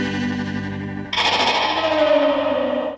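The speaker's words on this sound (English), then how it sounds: "They use guitars and reverb and God knows what else to make that noise." Swirling, heavily effected guitar tones made with guitars and reverb shift abruptly into a washed-out, reverberant wash that swells and then cuts off suddenly, from the Electric Prunes' "I Had Too Much To Dream (Last Night)".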